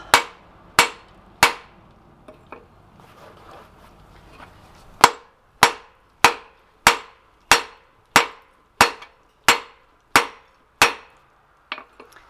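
A hammer strikes hot steel while a millpick's tapers are forged on a wobbly anvil, ringing out a dozen sharp, loud metallic blows in an even rhythm after a few scattered lighter taps and a quiet pause.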